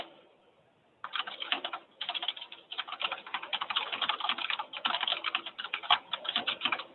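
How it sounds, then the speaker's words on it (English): Loud, fast computer-keyboard typing clatters almost continuously in the background of an online committee meeting, starting abruptly after a second of near silence and continuing in dense bursts with brief pauses. "I can hear someone typing pretty loudly in the background"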